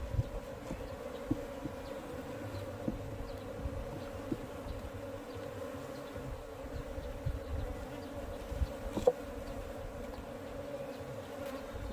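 Korean native honeybees at a hobby beekeeper's hive drone in a steady, close buzz that holds evenly throughout, with occasional louder individual bees passing near.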